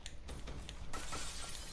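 Glass shattering during free run in the video game Call of Duty: Black Ops 3, a sharp bright crash with crackling fragments, fairly loud and close, with no talking.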